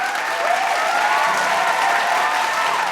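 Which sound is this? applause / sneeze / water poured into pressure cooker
applause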